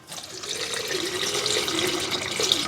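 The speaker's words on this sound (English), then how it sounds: "I'm just going to pull the plug out really quick and let the oil drain straight down" Motor oil pours from the drain plug of a 5th-generation Toyota 4Runner oil pan, a steady close splashing stream of liquid that builds slightly and continues without pause.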